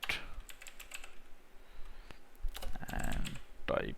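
Computer keyboard being typed on while writing code, rapid close-up key clicks in short bursts with brief pauses, fairly loud and dry.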